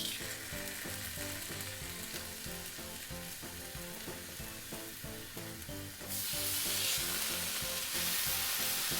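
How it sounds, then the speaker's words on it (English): Bacon sizzles steadily on a hot Steelmade flat top griddle, a loud continuous frying crackle with no talking, growing brighter and more intense toward the end. "we're gonna start by adding some delicious bacon."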